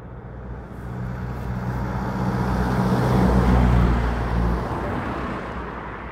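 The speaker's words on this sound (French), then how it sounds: "On entend bien les voitures hein." A car passes on a road beside a walking route, its broad, steady rumble swelling toward the middle and then slowly fading away, with no talking.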